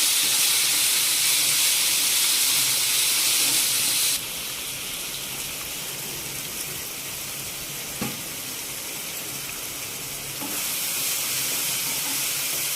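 Ridge gourd curry cooks in a pan with a continuous sizzling hiss, loud at first, then quieter for several seconds before rising again, with a faint clink midway.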